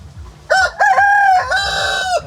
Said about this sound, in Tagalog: Daras ato ang mga manok ng gawas.